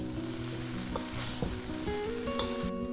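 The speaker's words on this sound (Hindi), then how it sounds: "कितनी आसान है पलटे से भी हिलाना।" A spatula stirs and tosses veg chow mein noodles in a hot pan, giving a loud steady sizzle with repeated scraping knocks and no voices.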